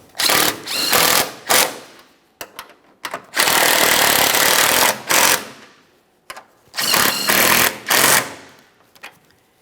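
Power tool snugging new strut mounting nuts on a 2015-2019 Subaru Outback, several close, loud bursts of buzzing rattle separated by short silences.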